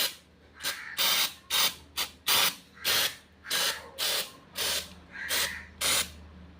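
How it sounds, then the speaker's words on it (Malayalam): A hand spray bottle mists water over sprouting green gram in soil, about a dozen sharp hissing bursts in quick, fairly regular succession, close and clear with no talking. "നമുക്കിതിങ്ങനെ സ്പ്രേ ചെയ്ത് കൊടുക്കാം"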